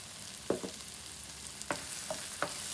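Tomato thokku cooking in oil, being stirred with a few distinct spoon scrapes and knocks against the pan over a soft, steady sizzle, with no talking.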